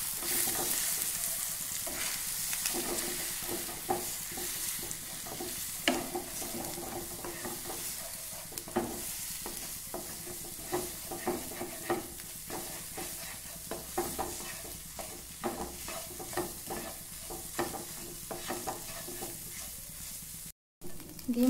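Eggs fry with a steady sizzle in a pan for a fish and egg curry, while repeated scraping stirs cut through at close range throughout.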